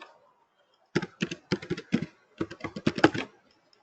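Computer keyboard keys typed in a lab, in quick bursts of close, crisp clicks with short pauses between groups, no voices.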